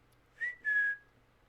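A human whistle imitates an emperor penguin chick, two short clear tones in quick succession, the second held longer, heard alone against quiet.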